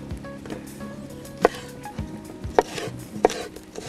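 Knife chopping onion outdoors while cooking bifes a la criolla: three sharp, distinct chop hits on a board stand out against quiet background rustle and faint clatter, spaced irregularly over a few seconds.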